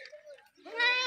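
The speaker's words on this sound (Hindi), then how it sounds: "देखो जी ये बकरी" A DDP goat bleats on a Pakistani farm with a single loud, nasal, wavering cry up close, right after a brief bit of a man's speech.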